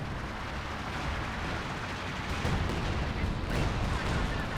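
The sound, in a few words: artillery fire and explosion in video game Company of Heroes 2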